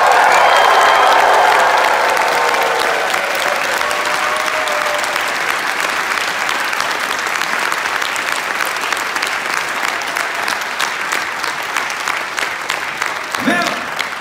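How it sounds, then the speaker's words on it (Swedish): An audience at a joint school arts performance bursts into loud applause and cheering for the teachers, dense clapping that starts strong and continues steadily, with a brief voice near the end. "Så jag tycker vi ger dem ett stort jubel!"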